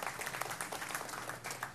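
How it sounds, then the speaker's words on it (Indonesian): Brief, fairly faint applause from a studio audience at a Ramadan talk show, a short burst of dense clapping without a clear rise or fade. "tepuk tangan dulu dong ya."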